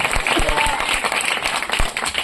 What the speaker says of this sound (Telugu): కొట్టండి చప్పట్లు